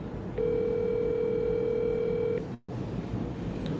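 A steady telephone dial tone sounds alone for about two seconds while someone is being called, then a short dropout follows and a low background hiss carries on afterward.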